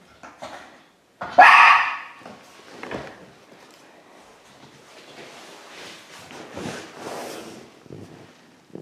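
A wet dog gives one loud close bark, followed by scattered quieter yips, snuffles and movement noises in a quiet indoor room.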